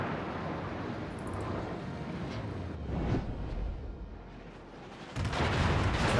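Naval guns fire high-explosive shells in a World of Warships battle around a Devonshire cruiser, producing heavy rumbling booms and rolling blasts over a dense, continuous low roar, loud and close with no talk.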